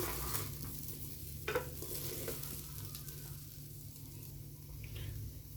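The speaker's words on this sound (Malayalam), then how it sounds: "നല്ലോണം മിക്സ് ചെയ്യുക." Vegetable fried rice stirred and tossed in a hot pan, a soft steady sizzle with occasional scraping strokes of the spatula, close and quiet.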